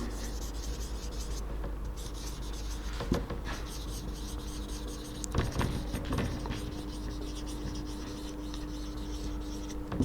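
A teacher writes words on a board during an English lesson, producing continuous scratchy strokes broken by a few sharper taps, with no talking over it.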